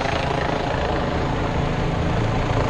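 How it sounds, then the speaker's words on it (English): A police helicopter hovers overhead, its rotor producing a loud, unbroken chopping drone that holds steady throughout. "2 police helicopters. Well, maybe that one isn't a police helicopter. It's going on its own way, but that one's holding steady over."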